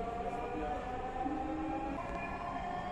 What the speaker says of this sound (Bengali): আমরা যেহেতু আজকে মেট্রো রেল ভ্রমণ করছি, আপনারা দেখছেন যে ট্রেনটা পুরোপুরি খালি।